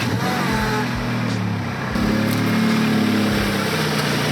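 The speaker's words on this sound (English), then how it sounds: "I'm just gonna go ahead and pull one of my cars up" A car engine idles and rumbles close by, its low drone swelling slightly as the vehicle is driven up into position for lug nut removal, steady throughout with no talk.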